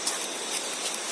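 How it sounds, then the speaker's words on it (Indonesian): Rain falls steadily over a graveyard, a dense, even hiss with no breaks and no voices. "tapi rupanya turun hujan"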